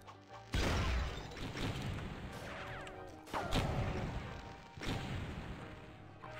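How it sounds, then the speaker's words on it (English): Explosions in Pirate Doom, a Doom mod: three heavy, noisy blasts land one after another, each with a crashing rumble that lingers over the game's background noise. "Explosion."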